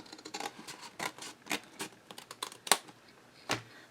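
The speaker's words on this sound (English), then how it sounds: "from this score line here, you're going to make a little tiny triangle cut" Scissors snip a small angled triangle into scored paper for a mini album, giving a run of short, crisp cuts and rustles close by, with one sharper snip near the end.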